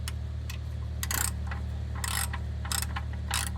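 A ratcheting wrench tightens the oil drain plug on a Subaru Forester, giving short bursts of close, crisp clicking at irregular intervals over a steady low hum, with no talking.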